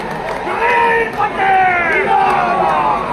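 Crowd gathered at a campaign ground in Komna block, Nuapada, welcoming Naveen Patnaik with loud, sustained wavering ululation over a dense roar of voices, close and continuous throughout.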